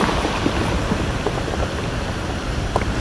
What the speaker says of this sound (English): Sorry, the waves moving the rocks.